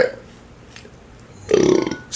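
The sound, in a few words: burping after a drink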